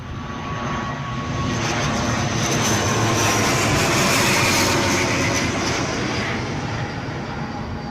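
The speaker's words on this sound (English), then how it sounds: "So Aer Lingus next in. Well into short finals." An Aer Lingus airliner on short final into Newcastle International Airport roars close by, a loud, steady broadband jet rumble that swells slightly toward the middle and holds for the whole stretch, with no talking.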